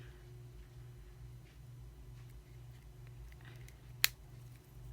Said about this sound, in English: I'm definitely going to have to cut down that extender chain some